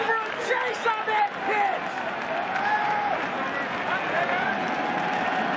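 A large crowd at a World Series baseball game between the St. Louis Cardinals and Boston Red Sox swells into distant cheering and a murmuring roar, with occasional whistles, sustained under a commentator's voice.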